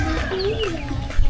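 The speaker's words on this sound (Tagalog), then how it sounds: "May mga sisiw din dito mga maliliit." Small chicks and chickens at a beach spot in Matabungkay cluck close by in a steady, busy stream, with one rising and falling cheep drawn out over a low rumbling background.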